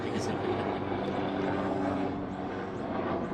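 A helicopter about to land drones loudly and steadily nearby, its engine and rotor rumble filling the whole clip.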